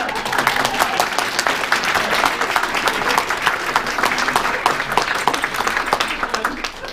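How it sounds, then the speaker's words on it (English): Audience applause at a book launch for a family memoir about overcoming mental illness, a steady dense clapping that holds evenly for the full stretch with no voices over it. "Can we clap now?"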